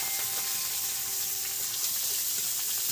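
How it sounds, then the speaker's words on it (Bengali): Chopped onions and curry leaves fry in a hot wok, giving a steady, close, bright hissing sizzle with small crackles and pops, no voices. "এবার কুচি কুচি করা পেঁয়াজগুলো এটাও দিয়ে দিচ্ছি"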